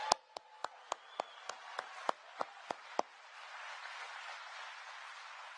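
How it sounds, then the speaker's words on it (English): Sparse, faint clapping from a small audience applauding the president at an IBM site in Poughkeepsie, about a dozen distinct claps in an uneven rhythm that stop abruptly, followed by a soft hiss of room noise. "we should give another round of applause for the president to come out here to Poughkeepsie"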